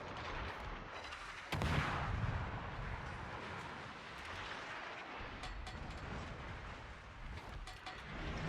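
Gearing destroyer shells fire at an enemy submarine in a naval video game: a heavy, booming burst of gunfire rolls over a dense, continuous rumble of battle noise and engine wash.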